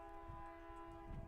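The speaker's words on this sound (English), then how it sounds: "a train horn" A train horn blares steadily and loud near a town-ball baseball diamond during an amateur game, a sustained chord-like blast that holds for the whole moment without pause.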